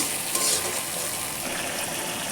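Pointed gourd curry with milk is stirred and sautéed in a hot pan, giving a continuous dense sizzle with soft scraping movements throughout a brief stretch.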